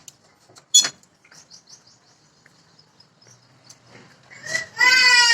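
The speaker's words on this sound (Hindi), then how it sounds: "क्यों रोया बच्चा? बच्चा रो रहा है।" A baby cries at the end with strong, harmonic wails after mostly quiet indoor ambience with faint chirps, rising to a loud continuous cry over the last second.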